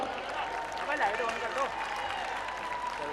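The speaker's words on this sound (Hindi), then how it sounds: "एक बार जोरदार तालियां बजा दीजिए" Crowd applause at an evening college cultural fest, steady clapping from the audience mixed with voices and a host speaking over it.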